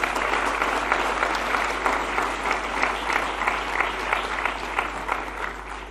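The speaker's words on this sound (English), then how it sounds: "I think that needs an applause." Sustained applause from a large audience at a political speech, dense steady clapping that holds at an even, fairly loud level throughout with no talk over it.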